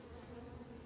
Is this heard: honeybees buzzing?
yes